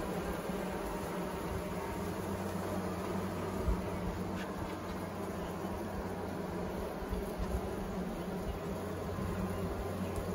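Honey bees buzz in a dense, continuous drone around an opened long hive during an inspection, steady and close with no talking.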